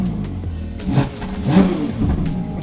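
A Novitec Ferrari 812 N-Largo S V12 engine revs nearby: a loud, rumbling engine roar that swells and dips over a couple of seconds, with no talk.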